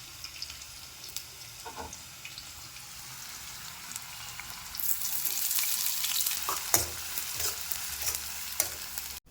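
Green chillies and sliced onion fry in a pan. A soft background sizzle with occasional stirring clicks gets louder and denser about halfway through, when the onion goes in.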